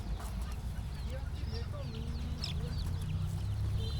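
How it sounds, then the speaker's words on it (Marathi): Chickens kept on a farm cluck and chirp faintly over a low, constant background rumble, with short scattered calls and no clear speech. "एव्हा मामाने पूर्ण इथं कोंबड्या पाळून ठेवल्यात"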